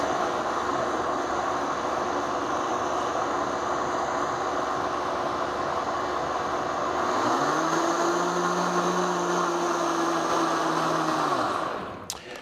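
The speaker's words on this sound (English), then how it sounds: "so we put it in the blender, and what we're going to do is just puree this until everything is smooth" An electric blender purees a milk bath mixture in one continuous motor whir lasting about twelve seconds; partway through the tone shifts to a steady higher-pitched drone before spinning down at the end.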